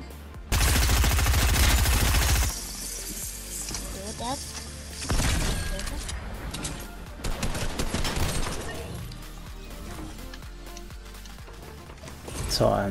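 Fortnite gunfire, a loud burst of rapid automatic fire followed by scattered shots, impacts and crashes across several seconds, with game effects and a voice talking in between.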